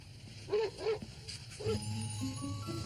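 A dog rescued from a shelter gives several short, high yipping barks in a TV drama scene, close and fairly loud, with brief whimpering between them over faint room noise.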